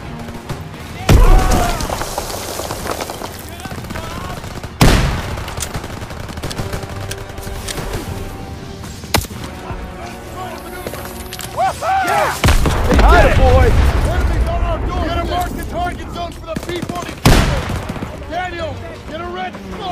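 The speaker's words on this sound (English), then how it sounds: "Grenade! Grenades" Grenade explosions and gunfire in the video game Call of Duty WWII: sharp, loud blasts land every few seconds over rattling gunfire, with voices speaking through the battle.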